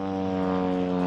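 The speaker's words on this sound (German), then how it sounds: "Das Flugzeug fliegt über die beiden hinweg." An airplane on the approach path to Munich Airport passes overhead with a steady, droning engine hum that stays even and fairly loud for a brief moment.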